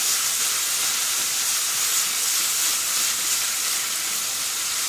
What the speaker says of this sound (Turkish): yan tarafta patlıcanlarımızı da kontrol ederek onları da dengeli bir şekilde kızarmasını sağlıyoruz